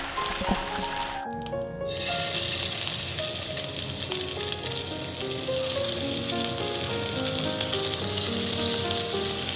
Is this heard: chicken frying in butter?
yes